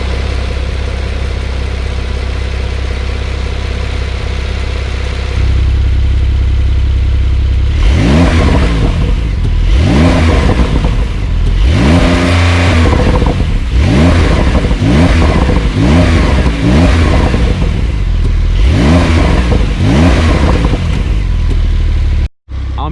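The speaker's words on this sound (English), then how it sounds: "You're buying a Porsche, you're getting real exhausts, which brings us to how this car sounds." A Porsche 911 Carrera Cabrio with 385 HP idles, then revs hard repeatedly through its real exhausts, loud, near, with sharp rising and falling bursts and a cut at the end.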